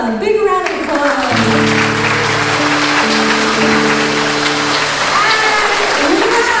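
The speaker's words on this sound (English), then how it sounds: "So give all the local businesses a big round of applause." Applause from the audience at a children's musical theater show, a dense steady clapping wash that fills the whole stretch, with a voice heard near the start and sustained tones sounding over the clapping.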